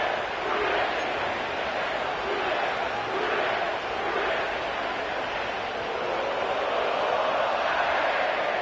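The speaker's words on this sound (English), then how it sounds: "sellout crowd has arrived at Paycor Stadium in Cincinnati" A sellout crowd at Paycor Stadium in Cincinnati fills the air with a dense, steady roar before an American football kickoff, with a voice speaking over the noise.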